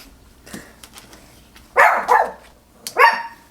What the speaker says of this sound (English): he's like barking and how that could be distracting to you guys